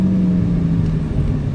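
A Ferrari 458 engine holds a steady low, loud drone, its pitch sliding slightly downward across the short stretch with no voices over it.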